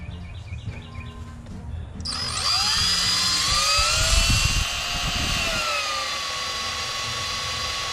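A drill with spider extractor bits boring out a broken bolt on a 2000 Ford F-250, a loud high whine that spins up and runs steadily, with lower grinding bursts beneath it.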